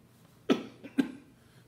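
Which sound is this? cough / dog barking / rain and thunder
cough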